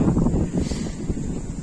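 Gusting wind buffets the microphone over choppy water, with a rough, rushing noise and no voices.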